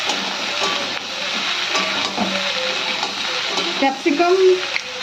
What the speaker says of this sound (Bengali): ক্যাপসিকাম, রেড বেল পেপার এবং ইয়েলো বেল পেপার দিয়ে আমরা একটু হালকা ফ্রাই করে নেব।